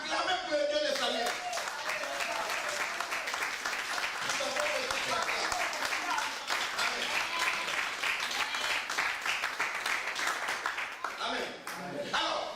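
A church congregation claps steadily and loudly for several seconds, a dense sustained burst of applause that fades near the end.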